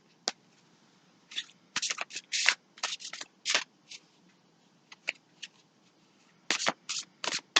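Tarot cards shuffled by hand up close, crisp riffling bursts in irregular clusters separated by short pauses, fairly loud against a quiet room.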